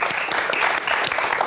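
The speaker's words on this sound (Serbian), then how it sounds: "Molim vas jedan aplauz" Studio audience at a TV quiz show applauding, dense steady clapping from many hands throughout.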